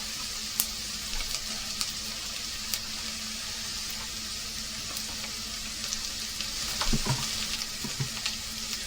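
Stock cube liquid being stirred into a pan of Moroccan-style wild rabbit tagine, with steady sizzling and frying close by, gentle bubbling, and a few soft clinks and scrapes of the spoon against the pan.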